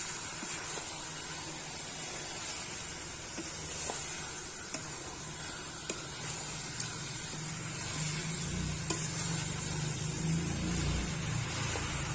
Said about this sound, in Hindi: बस इसी तरीके से चम्मच चलाते रहना है आपको।